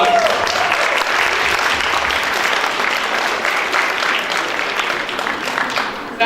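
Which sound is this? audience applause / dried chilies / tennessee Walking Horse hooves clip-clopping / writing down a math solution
audience applause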